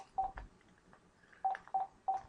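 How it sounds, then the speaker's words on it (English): Telephone dialing tones from a phone keypad: one short beep, a pause, then three evenly spaced beeps in quick succession, close and clear with no talk. "We are going to call the second one now."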